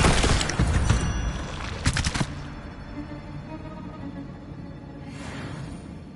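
Spell effects from the Hogwarts video game, with a loud crackling magical burst and a sharp impact near the start, then a fading shimmering tail and a softer swish near the end, with no talk.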